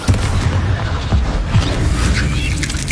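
Spell blasts from the Bombarda and Confringo charms in Hogwarts Legacy go off as loud, booming explosions, with several heavy thuds in a dense, rumbling wash of noise.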